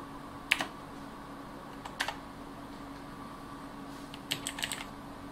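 A Razer BlackWidow Ultimate 2016 mechanical keyboard typed on in quick clicky bursts, a few sharp keystrokes then a longer flurry, close and fairly quiet over a faint electrical hum.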